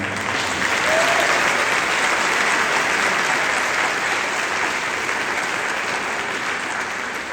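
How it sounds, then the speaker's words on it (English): An audience at a Senate District 27 candidate debate in Fredericksburg applauds, a dense, steady clapping that holds evenly throughout. "So give yourself a round of applause."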